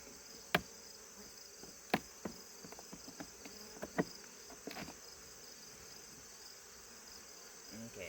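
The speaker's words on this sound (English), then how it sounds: "So there's a lot of bees in here" Honeybees buzz inside an open hive being condensed, a faint steady hum under sharp knocks and clicks of frames and tools being handled, with no voice heard.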